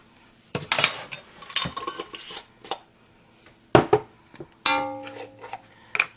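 A metal measuring spoon scoops instant yeast into bread flour for restaurant-style bread sticks, making a handful of short, close clinks and taps against the container with quiet gaps between them.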